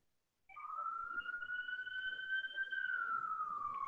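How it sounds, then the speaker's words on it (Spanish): A vehicle siren passes in the background during an online presentation session, one long steady wailing tone that rises in from silence and holds fairly loud and clear, slowly dipping in pitch toward the end. "mientras escuchamos la sirena que pasa por el fondo"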